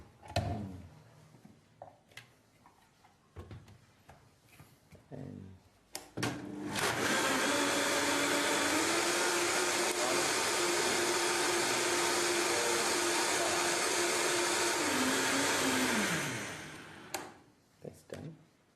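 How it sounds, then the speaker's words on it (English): A high-speed blender runs loud and continuous for about ten seconds, blending soup made with Kangen water. Its motor pitch rises and holds, then winds down, with clicks and handling noises before and after. "So now all it's gonna do is put it inside and blend it."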